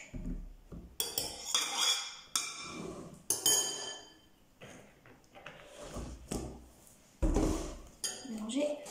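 Crêpe batter is whisked in a bowl in irregular bursts of clinking and scraping against the sides, alongside a voice speaking between the strokes.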